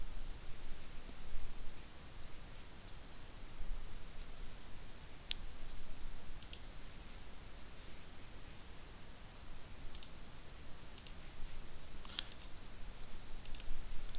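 Faint computer mouse clicks come a few seconds apart over steady background hiss while a file download starts, some clicks singly and some in quick pairs, with no talking.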